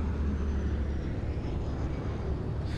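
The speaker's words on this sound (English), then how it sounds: "Oh, when it vibrates, it's the airplane." An airplane passes overhead while dropping an airdrop in the Dying Light game, a continuous loud, low engine rumble and roar holding steady throughout, with no voices.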